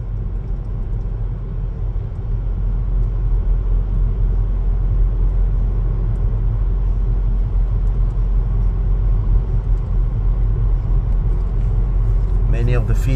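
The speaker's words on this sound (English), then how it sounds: "So we are driving through there." Car driving through a former army camp in Gütersloh, Germany, a steady low engine and road rumble throughout, with a faint higher whine near the end.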